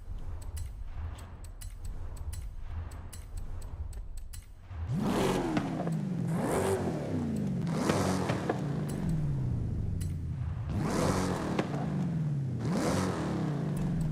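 Stock engine of a fully modified Dodge Durango revving in Forza Horizon 5, a quiet idle followed by four loud, rising revs that peak and fall back in a steady rhythm, close and alone.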